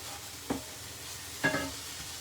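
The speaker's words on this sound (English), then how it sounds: "Just giving this a bit of a fry off." Ingredients for a Thai green fish pie fry in a pan with a steady low sizzle, broken by two brief scraping stirs close by and no one talking.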